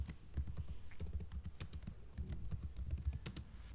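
Quick, uneven bursts of key presses come from a computer keyboard while text is entered into an Excel spreadsheet, close and soft, with no talk.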